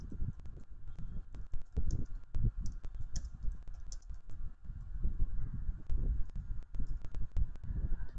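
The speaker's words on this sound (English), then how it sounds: "So let me type" Rapid clicking of keys being typed on a computer keyboard, close and fairly quiet, in irregular bursts with short pauses.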